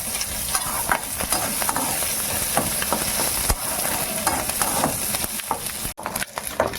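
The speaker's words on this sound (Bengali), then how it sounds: "লাল লাল করে ভেজে নেবো" Steady crackling sizzle of fish rubbed with turmeric and salt frying in hot oil until reddish, with occasional scraping and stirring sounds, close and continuous throughout.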